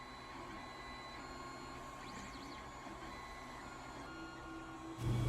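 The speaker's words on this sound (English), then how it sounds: "once it was done heating, it started printing" A 3D printer printing a Zelda Master Sword hums and whirs steadily at a low level, with faint stepper-motor tones rising and falling, then a louder mechanical shift at the end.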